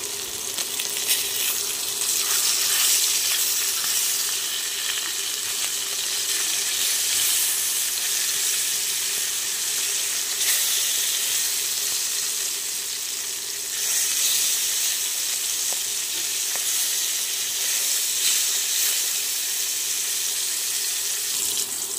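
Flipped katla fish pieces fry in hot oil in a kadai, making a loud, continuous crackling sizzle that stays close and unbroken for a long stretch with no talking.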